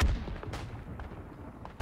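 A World War I artillery piece in Isonzo fires deep, booming shots. One heavy thump opens the stretch and another lands near the end, with a dull rumbling background between them and no talking.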